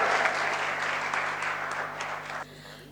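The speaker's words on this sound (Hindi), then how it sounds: "तालियां बजती रहें धमाकेदार।" Audience applause at a Hindi stage event, dense and steady for over two seconds before stopping abruptly, with a faint hum underneath.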